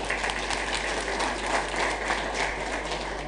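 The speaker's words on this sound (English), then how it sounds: "Can we give them another round of applause?" An audience applauds the panelists at the close of a conference discussion on intra-African food markets, with a dense, steady round of clapping that stays level from start to finish, no speech on top.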